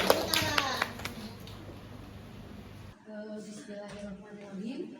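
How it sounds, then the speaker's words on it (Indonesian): An audience at a school workshop claps in a short, scattered burst of applause for a few seconds, then the claps fade and a person talks softly over the quiet room. "Tepuk tangan untuk kita semua."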